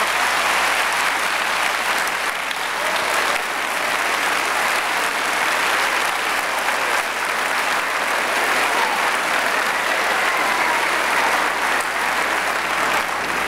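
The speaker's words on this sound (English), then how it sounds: "give yourselves a big round of applause for the great job you're doing." Sustained, dense applause from a roomful of employees at a personnel commission gathering, loud and steady throughout with no break and no talk over it.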